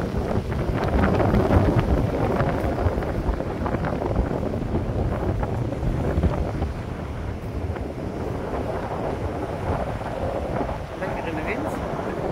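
Wind at a seaside beach in Bredene, a steady loud rushing roar with low rumbling gusts throughout, easing slightly toward the end.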